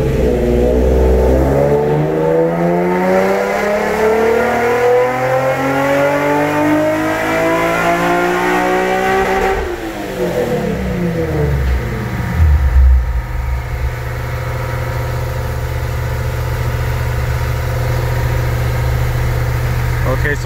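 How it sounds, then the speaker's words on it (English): A car engine climbs steadily through its RPM range during a pull, with rising harmonic whine, then lets off and settles into a lower drone, loud and close. "Let's go ahead and do the first pull, see how far we can get in the RPM range before I have to let off."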